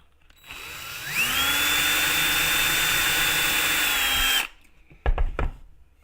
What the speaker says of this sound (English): And we'll drill this hole.